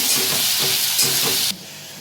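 Chopped onion pieces sizzle loudly in hot oil as they are stirred, with a rhythmic scraping pulse under the frying hiss before the sound drops off abruptly partway through.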